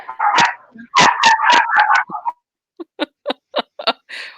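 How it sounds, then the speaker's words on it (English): Several dogs bark in a rapid, excited burst of loud, close yips and woofs, then after a short pause a string of sharper, higher barks follows at a steady rhythm. "Wow, something affected the dogs."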